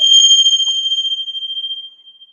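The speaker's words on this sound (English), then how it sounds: "I'm going to try by clearing some energy by ringing some bells." A single bell or chime is struck once, ringing clear and bright, its pure tone ringing out and slowly decaying over about two seconds in otherwise quiet surroundings.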